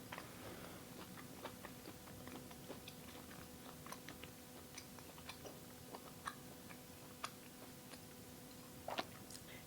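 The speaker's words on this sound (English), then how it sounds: "see, you have to chew and chew and chew." Beef heart being chewed, with soft, repeated close-up mouth clicks and crunches spread through the stretch over a quiet background, alone without talk.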